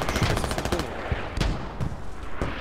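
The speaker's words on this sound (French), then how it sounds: "T'entends, il tire." Gunfire in the video game Squad, an armored vehicle firing rapid machine-gun bursts, dense crackling volleys early then scattered louder single shots, moderately distant.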